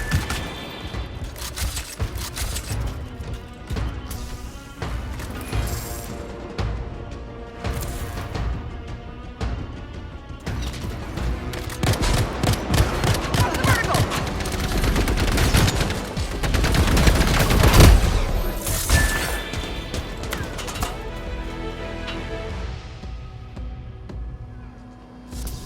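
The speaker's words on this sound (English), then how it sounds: "They need to stop shooting me out of the air." Outlaws open fire in the video game Anthem, with rapid gunshot bursts and booms crackling over a constant game soundscape and music, building to a loud dense peak and then easing off.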